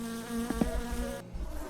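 A buzzing mosquito-like bug whines close by in the video game My Summer Car, a thin droning hum that rises in a couple of quick swells before cutting off, heard alone.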